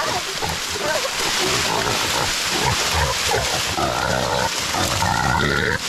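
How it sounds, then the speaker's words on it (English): A male wild boar grunts and squeals continuously and loudly at close range while being caught by hunting dogs, with the harsh grunting filling the whole stretch alone. "We're gonna take this hog, it's a male, it has testicles."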